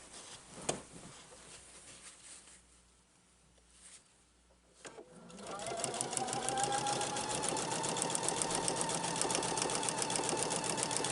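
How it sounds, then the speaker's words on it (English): A sewing machine stitches quilt binding, starting with a few quiet clicks and then settling into a steady, rapid mechanical whir of needle strokes, close and continuous. "And then I just start stitching."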